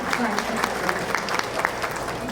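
A seated audience at a political event on women in politics applauds in a brief, moderate burst of clapping while a voice carries over it.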